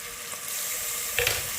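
Onions and ginger sauté in a pan with a steady broadband sizzle, and a brief louder burst of frying or stirring comes near the end. No one speaks.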